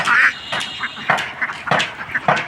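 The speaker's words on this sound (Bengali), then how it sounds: "এগুলো কিন্তু সবগুলোই খাকি ক্যাম্বেল হাঁস দেখতে পাচ্ছেন।" Khaki Campbell ducks quack nearby in a series of short, raspy calls, several overlapping bursts close together.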